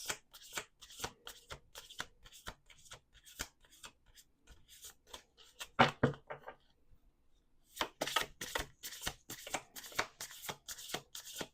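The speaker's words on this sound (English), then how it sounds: "I'm going to do 2 more shuffles." Tarot cards riffled and shuffled in quick crisp bursts, close by, with a short pause midway before another run of rapid shuffling.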